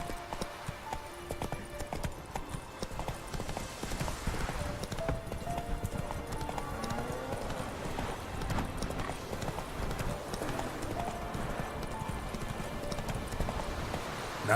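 Roach, a horse in The Witcher 3, gallops with rapid, continuous clip-clop hoofbeats that hold steady and fairly close throughout, with an occasional snort or whinny mixed into the game sound.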